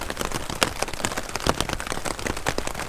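Heavy rain drums hard and close on a taut tent, dense irregular patters and louder drips hitting continuously.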